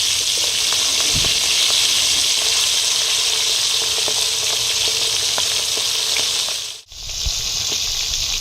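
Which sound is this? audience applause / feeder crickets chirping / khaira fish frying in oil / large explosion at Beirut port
khaira fish frying in oil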